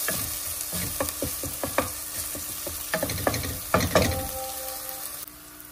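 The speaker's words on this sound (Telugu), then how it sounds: "ఇది కొంచెం బ్రౌన్ కలర్ వచ్చే వరకు వేగాలి" Onions, ginger garlic paste, green chillies, turmeric and salt fry in a pan with a steady sizzle. A utensil scrapes and stirs them in repeated close taps and clatters, and there is no talk.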